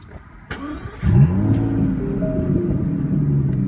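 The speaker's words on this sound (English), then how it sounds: "I'll start the engine now" A 2017 Aston Martin DB11 Launch Edition starts up: a starter whir, then the engine catches with a loud burst about a second in and settles into a steady close-up rumble.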